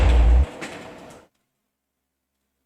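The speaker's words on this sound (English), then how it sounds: "I just heard a door open" A door in a horror video game opens with a heavy, rumbling scrape and a grinding mechanical slide that tapers off into silence.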